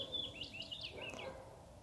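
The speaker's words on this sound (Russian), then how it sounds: "Птицы поют." Birds sing outdoors amid fresh spring greenery, with a few quick high chirps and warbling phrases, fairly faint and distant against soft background noise.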